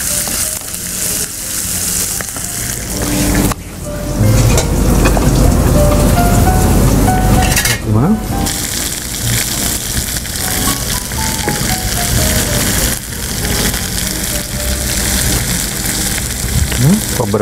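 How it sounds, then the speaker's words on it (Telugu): Onions sauté in hot oil with dried red chillies and curry leaves, giving a loud, steady sizzle and crackle with stirring. Background music plays throughout. "ఉల్లిపాయని కొంచెం మగ్గ పెట్టుకుందాం."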